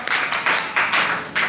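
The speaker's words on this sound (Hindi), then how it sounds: "रुक्मणी मैया, ताली बजाइए" An audience claps in bursts at a devotional talk: four or five short, bright rounds of hand claps, fairly close and loud, with no talking over them.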